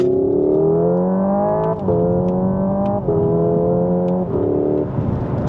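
Hyundai Ioniq 5 N electric car pulling hard through simulated gear changes, a loud synthetic engine note climbing in pitch, dipping briefly at each of several shifts, then climbing again, steady and close.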